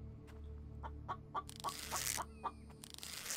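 A video game chicken clucks in quick repeated bursts close by, over a steady background hum, with a brighter chirping flurry partway through.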